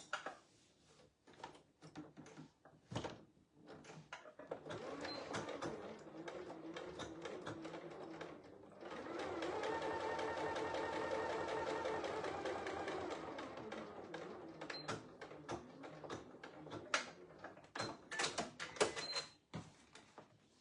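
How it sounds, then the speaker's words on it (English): A sewing machine topstitches the three card slots of a fabric mini wallet, running in two steady whirring stretches broken by clicks and handling clatter, close up and quiet, with no talk. "So there I've done the 3, I've top stitched the 3 card slots."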